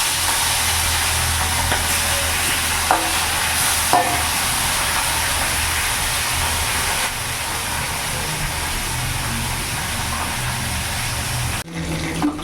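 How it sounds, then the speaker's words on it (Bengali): Mrigal fish pieces fry in hot mustard oil in a pan, a steady close crackling sizzle with occasional stirring scrapes, and a brief clatter near the end. "লাল লাল করে মাছগুলো ভেজে নেব।"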